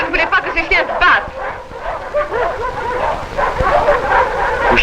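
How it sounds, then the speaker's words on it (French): Dogs yapping and whimpering in a scuffle, busy overlapping barks and yips close by, with voices talking over the noise throughout. "je ne voulais pas que ces chiens se battent"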